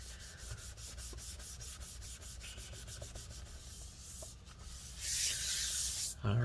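Sticky residue being rubbed off a part of a 2017 13-inch MacBook Air A1466 during an LCD and battery repair, a steady close scrubbing and wiping friction with a brief louder burst near the end.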